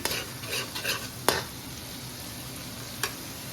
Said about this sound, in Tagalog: Hintayin lang natin mag-brown ng konti yung ating nilagay na bawang at sibuyas bago natin nilagay yung ating mga seasoning.